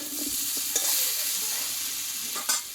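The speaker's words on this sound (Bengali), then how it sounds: "মিষ্টি কুমড়োর মূলোটা আমি কিন্তু ভালোভাবে কষিয়ে নিয়েছি" Pumpkin and radish fry in a pan while being stirred, a steady close sizzle broken by a couple of sharp spoon scrapes and clinks against the pan.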